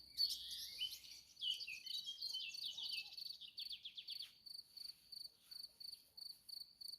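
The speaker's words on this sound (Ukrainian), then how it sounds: "Виспівують птахи." Birdsong in a village flower garden in Ukraine, quiet and somewhat distant: a busy burst of high twittering up front, then thinning into a regular series of repeated high chirps, with no voices.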